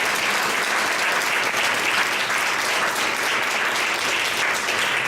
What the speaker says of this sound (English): let's support and give a big round of applause for Councilwoman Duarte